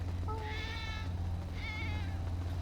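Cats meow at a photo session, two drawn-out, wavering cries in succession over a low background hum, close and fairly clear.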